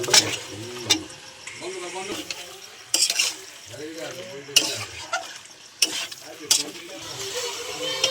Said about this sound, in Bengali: মশলাটা কষানো ভালোভাবে হয়ে গেছে চিকেনটা দিয়ে দেবো দিয়ে দিচ্ছি